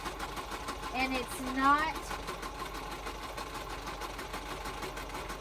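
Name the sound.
sewing machine stitching a journal cover binding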